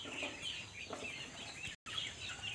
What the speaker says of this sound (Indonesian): Ini bebek pedaging saya teman-teman.